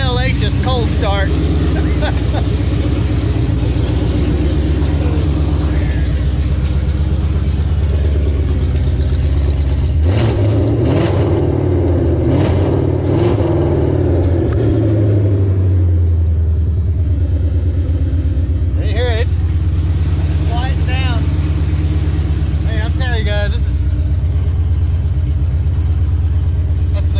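Ford Fox-body Mustang sleeper's engine cold-starting and idling with a steady low rumble, then revved hard around the midpoint in a few sharp bursts before settling back, with people talking nearby throughout.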